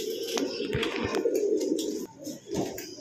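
Crested racing pigeons in a pigeon showroom coo and murmur close by in a steady, continuous low burble, with a few soft flutters and shuffles mixed in.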